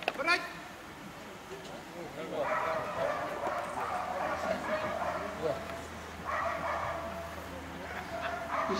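A young dog growls and yips playfully in short bursts while tugging, with a person's voice speaking over the scuffling.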